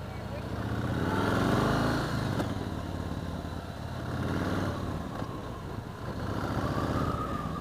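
A 2015 Yamaha Star Raider cruiser motorcycle is ridden in a low gear, its engine swelling in repeated revving surges with a deep rumble, while someone talks over it.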